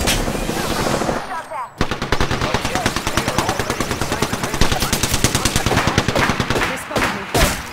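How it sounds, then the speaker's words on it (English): R99 submachine gun fire in Apex Legends: long, loud, rapid sustained bursts of automatic gunfire with dense rhythmic shots, briefly broken by a short gap near the start. "They spotted me. Shots."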